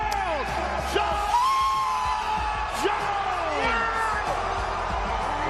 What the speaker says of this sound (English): The crowd are ecstatic to have him.